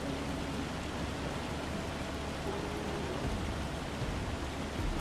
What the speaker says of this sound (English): Yeah, because this isn't rain, this is hail.